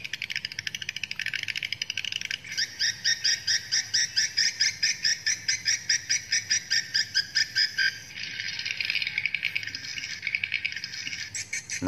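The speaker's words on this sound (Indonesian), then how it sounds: "Itu suara BW kejar-kejaran yang kita manipulasi" Swiftlet chasing calls with their tempo altered, a dense run of rapid, regular chirps that pulses evenly through the middle of the recording and then blurs into a continuous twittering chorus near the end.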